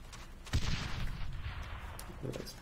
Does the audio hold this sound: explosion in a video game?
yes